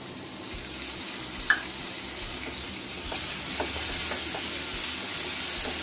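Onions and tomato frying on medium heat, a steady soft sizzle that rises slightly midway, with one sharp knock and faint stirring taps, no voices.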